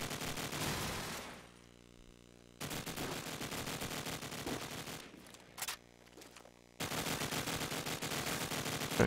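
Rapid automatic gunfire rattles in Call of Duty 4 during a competitive match, with loud bursts broken by short quiet gaps and a few sharper isolated shots, no voices.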